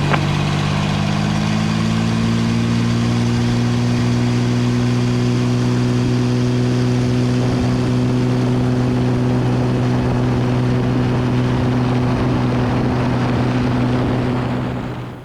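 A Cessna T182T Turbo Skylane from 2013 roars at full takeoff power, its turbocharged piston engine and propeller giving a loud, steady droning hum that holds evenly throughout and fades slightly at the very end.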